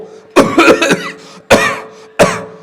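A voice mimics a harsh coughing fit: a quick cluster of rough coughs, then two more separate hacks, loud and close.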